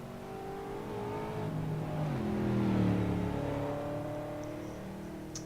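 Race car engines in a sim racing league event whine and rise in pitch through the gears, several cars overlapping as one surges closer to a peak and then eases away.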